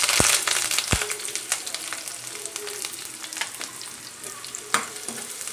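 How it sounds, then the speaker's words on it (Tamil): Gravy masala for paneer butter masala sautéing in a pan: a loud crackling sizzle with intermittent stirring scrapes and a couple of sharp knocks, easing slightly over time. "ஒரு நிமிஷம் நல்லா வதக்குங்க விட்டு விட்டு வதக்குங்க"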